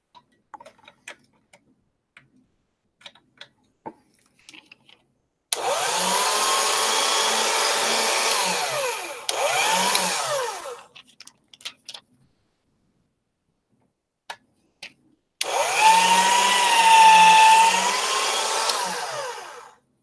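Polymer clay being rolled through a hand-cranked pasta machine, heard as two loud sustained bursts of grinding, whirring mechanical noise, each several seconds long, separated by quiet gaps with faint small clicks and taps.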